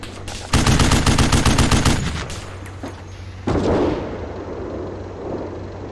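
Rapid automatic gunfire in the Steel Beasts tank simulator game, a dense burst of loud repeated shots for about a second and a half, then scattered reports and a heavy boom fading into rumbling echo.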